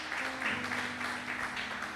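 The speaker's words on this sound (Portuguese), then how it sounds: "Quem pode aplaudir o Senhor?" A church congregation applauds during a sermon, a brief, steady wash of clapping heard from a distance with a low hum underneath.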